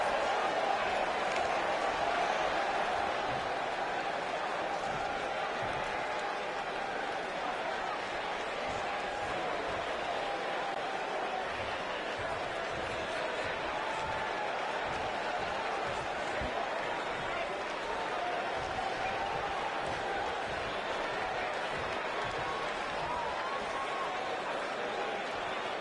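A steady arena crowd roar from the WWE 2019 wrestling video game, a dense continuous wash of cheering and murmur that holds at a constant level throughout with no clear breaks.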